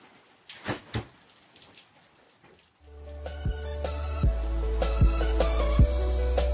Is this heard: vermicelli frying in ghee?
no